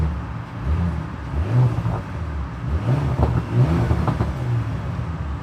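A 2024 Porsche Macan S in sport plus mode runs with a steady, loud exhaust drone that swells and eases in gentle revs throughout, with no voices over it.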